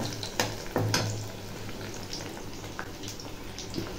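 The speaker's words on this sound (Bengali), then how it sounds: "শাপলা ফুলের বড়াটা করে নিচ্ছি" Water lily flower fritters frying in a pan, a steady soft sizzle with a few louder crackling bursts near the start, close by and alone.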